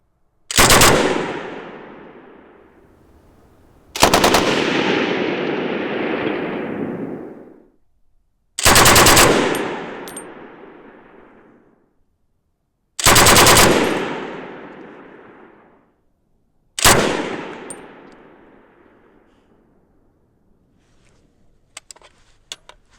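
A Bren light machine gun fires five loud bursts outdoors at a range, each a sharp rapid volley trailing into a long echo, with pauses between and faint metallic clinks at the end.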